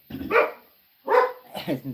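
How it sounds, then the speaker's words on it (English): Dogs bark in three loud, close bursts, with short pauses between them and no talking. "there goes the dogs."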